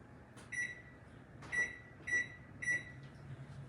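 Kitchen timer being set for banana bread brownies, four short electronic beeps in an uneven rhythm, close and clear over quiet room noise.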